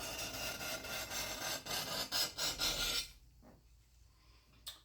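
A razor blade scrapes a Stanley Bailey No. 7 hand plane during restoration, giving about three seconds of steady rhythmic rasping strokes up close, then near quiet with a few faint knocks.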